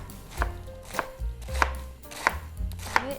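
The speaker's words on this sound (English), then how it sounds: "and then chop the cabbage" Knife chopping green cabbage on a cutting board for Taiwanese pan-fried pork buns, with about five sharp, evenly spaced chops close up and low thuds from the board between them.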